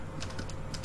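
Quick, light clicks of typing on a computer keyboard while entering C code, a short close run of several keystrokes over a low steady hum.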